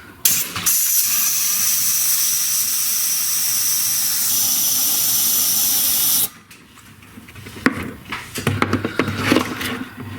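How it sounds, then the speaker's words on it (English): Compressed air blasts through a transmission part from a Chrysler Town & Country in a loud, continuous hiss lasting several seconds, followed by quieter handling clatter and rustling. "I'm going to just blow compressed air through one more time"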